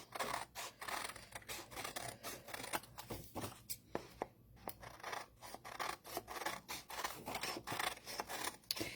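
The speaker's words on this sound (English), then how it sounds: "I'm just going to cut along my black lines and cut out my center circle" Paper scissors cutting quilt fabric along drawn lines, a close series of crisp snipping strokes in an irregular rhythm with a brief pause midway.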